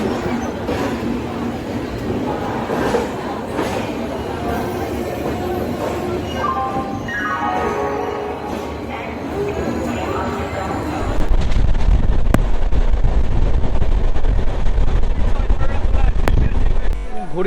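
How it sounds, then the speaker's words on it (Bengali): Kandari Express passenger train on the Howrah to Digha route rolling along, a steady rumble with wind buffeting that grows louder and rougher partway through, as voices talk faintly over it. "এখন আমাদের ট্রেন ছাড়লো কান্ডারি এক্সপ্রেস।"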